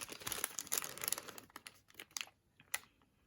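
Thin, non-cardboard paper die cuts are handled and shuffled, giving quiet crinkly rustles and light crackling taps in an irregular stream.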